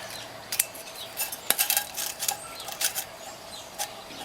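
A metal 900 ml pot set down inside a Firebox stove, giving a string of light metallic clinks and scrapes with one sharper knock, close and fairly quiet with no talking.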